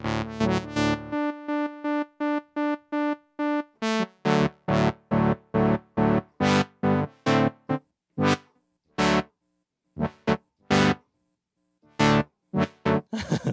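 Guitar notes chopped into abrupt on-off bursts by a square-wave tremolo, a stuttering rhythmic gating that continues through several played phrases.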